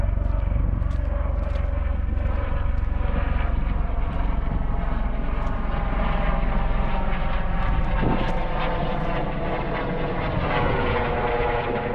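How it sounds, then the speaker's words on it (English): A steady, droning helicopter engine rumbles continuously with a faint rhythmic beat, passing at some distance over Whiskeytown Lake. "Helicopter flying over there."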